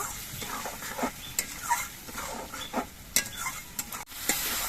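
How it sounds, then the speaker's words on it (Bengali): Mung dal tossed with spices in a hot oiled pan for a vegetarian pointed gourd dish: a steady sizzle under repeated scraping stirs of a spatula, with a few sharper clicks against the pan, close and moderately loud. "মুগ ডাল দিয়ে আমি দু মিনিটের মতন নাড়াচাড়া করে এনে নেব"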